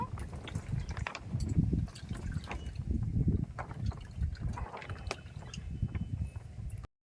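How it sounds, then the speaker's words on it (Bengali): Water is squeezed by hand out of freshly made milk curds for kalakand, giving soft irregular drips and trickles in uneven pulses for several seconds, close and fairly quiet. "এইভাবে চেপে জলটা বের করে দেব।"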